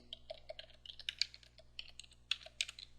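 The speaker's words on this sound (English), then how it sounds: "So let's type in vi space, and we'll call it loopdemo.txt." Keystrokes on a computer keyboard as a command is typed into a terminal, irregular quick clicks in short bursts, close and clear with no talking.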